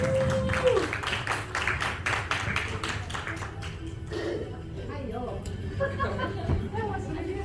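Applause from an audience at a client appreciation award party breaks out as award winners come up on stage, dense and busy for the first few seconds, then thinning as a voice begins speaking over the remaining scattered claps.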